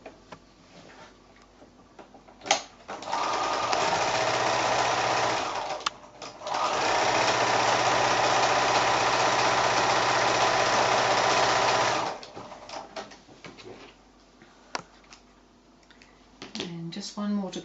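A sewing machine stitches a quilt block in two steady, fast-running bursts separated by a short pause, with handling clicks and fabric rustle before and after.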